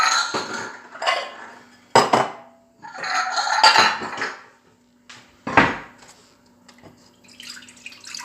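A bowl and utensils being handled while preparing homemade yogurt in a Tupperware yogurt maker: several close, sharp clinks and knocks of dishware in irregular bursts, with quiet pauses between, no talking.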